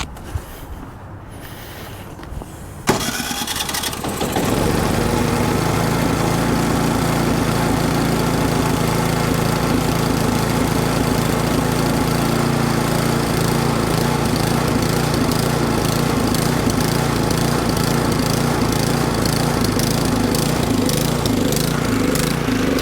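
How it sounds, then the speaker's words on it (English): After a few quiet seconds with faint handling noises, a snowblower's small engine fires up following a tune-up and runs on steadily and loudly at a constant, rattling pace without talk. "We're gonna fire this thing back up, make sure everything runs right."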